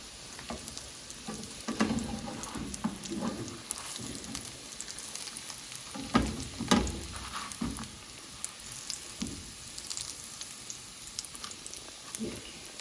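Oil sizzling and crackling steadily as coated potato cutlets fry in a pan, with irregular pops and spits throughout, close by and moderately loud.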